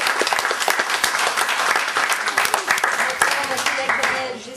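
Wedding guests applaud the married couple at their ceremony in a loud, dense burst of clapping that holds steady and eases off only at the very end.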